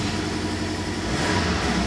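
A Porsche 718 Cayman T turbocharged engine idles with its exhaust flaps shut, a steady, muted mid-range hum with a low rumble, close and continuous.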